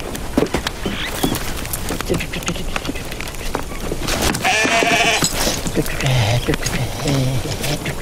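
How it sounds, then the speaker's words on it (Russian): Sheep bleat several times amid shuffling hooves and rustling, with people talking nearby. "Пригоните овец поближе."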